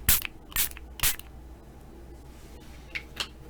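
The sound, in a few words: spray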